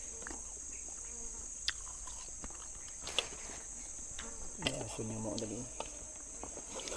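Houseflies buzz faintly around a tent in a quiet setting, with a few soft clicks and brief indistinct movement sounds.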